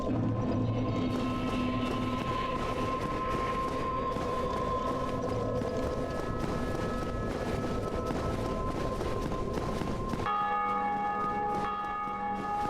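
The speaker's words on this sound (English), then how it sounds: "Oh, there's another player ringing the bells." Church bells tolling in Dark Souls: Remastered, sustained ringing with layered bell tones over a dense ambient game soundscape, continuous and fairly loud throughout, with a shift in tone near the end.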